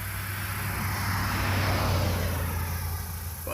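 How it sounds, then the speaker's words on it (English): Vehicles on a road at night, a car and a truck rolling by, with a steady broad roar and a low engine hum that swells slightly mid-way and stays close and continuous throughout. "Wait for the next car to go by."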